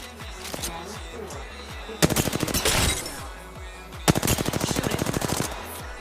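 Two rapid bursts of automatic machine gun fire ring out in a video game, each a loud, fast rattle of shots following a quieter stretch of battlefield noise.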